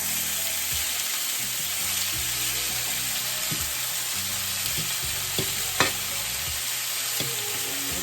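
Chicken breast fries in a pan with a steady bright sizzle and spitting, while occasional knocks and clinks from turning the pieces sound close by, no talking.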